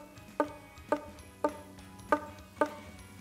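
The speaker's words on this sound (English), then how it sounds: "You'll notice if you don't press hard enough on the strings, you'll get a muted sound like this." On a one-string guitar, a string not pressed down firmly gives five short, dull, muted plucks, evenly spaced and quiet, each dying away quickly.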